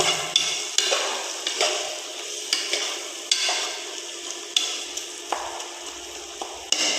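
A spoon stirring chicken biryani gravy with lemon in a pan, with repeated scraping strokes and metallic taps every half second or so over a soft sizzle, close and clear, no talking.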